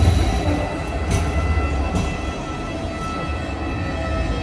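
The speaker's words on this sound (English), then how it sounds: "I love the trams. Look at them." A tram rolling along a city street in Sofia, Bulgaria, a loud steady rumble of wheels on rails with faint metallic squeals and clicks, close by and continuous throughout.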